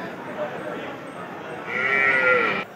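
A buffalo calf at a buffalo market gives a drawn-out bleating call, rising clearly over a busy background of crowd murmur, close by and lasting under a second.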